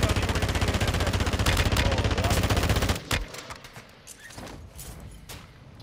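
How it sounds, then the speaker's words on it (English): Sniper and automatic gunfire in a multiplayer shooter game crackles loudly and continuously for about three seconds, then thins to scattered distant shots and faint echoing reports. "I'm getting sniped at."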